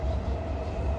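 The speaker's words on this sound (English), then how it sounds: "Matsumoto train." A Matsumoto-bound train on Tokyo's Chuo Line rolls past between Koganei and Tachikawa, a loud, steady rumble with a continuous rail roar through the whole brief moment.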